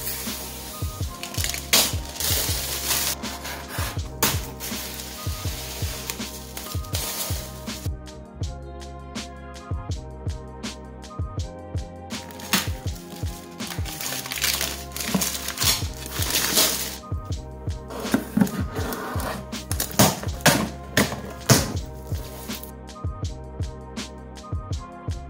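A package of art supplies, including a Liquitex acrylic paint set and canvas paper, is unboxed close by, with crinkling, ripping and scraping of packaging in irregular bursts separated by quieter pauses.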